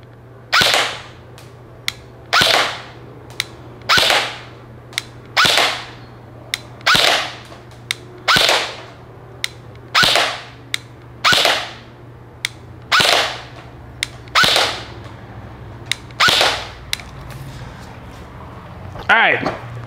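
An Elite Force Avalon CQB airsoft rifle fires BBs at a target 25 feet away, about fourteen sharp, evenly spaced single shots with a short hiss after each, clear and close over a faint steady hum.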